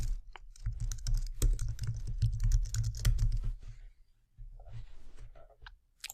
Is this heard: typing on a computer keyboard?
yes